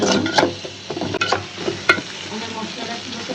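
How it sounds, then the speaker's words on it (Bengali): Spices frying in mustard oil in a pan, a loud close sizzle with stirring scrapes and a few sharp clinks, continuous over a few seconds. "ভাজা ভাজা করে তারপরে একটু মশলা দিই।"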